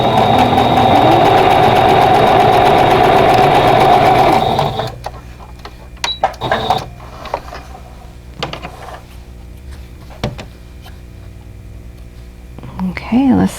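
A domestic sewing machine stitches a quilt block seam in a loud, steady mechanical whir for about four seconds, then stops, leaving soft handling clicks and rustles, with a brief restart at the very end.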